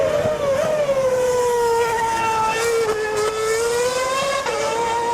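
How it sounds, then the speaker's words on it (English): A loud, high-pitched Formula 1 car engine screams past at Mount Panorama, Bathurst, its whine sliding up and down with gear changes, continuous and close. "Just insane noise coming from that car"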